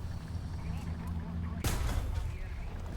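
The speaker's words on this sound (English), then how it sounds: "someone just shot me from down the lane" In a tank battle video game where a Maus heavy tank is being played, a single sharp cannon shot cracks out mid-way over a steady low engine rumble.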